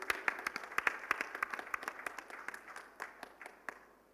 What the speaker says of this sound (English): Please, a big round of applause for Mr. Sameer Sagar.